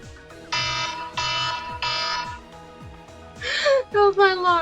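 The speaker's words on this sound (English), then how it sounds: "That was my alarm." Beeping electronic alarm from a phone in a game session blares in repeated bursts, loud and close, followed by a gasp and strained vocal sounds.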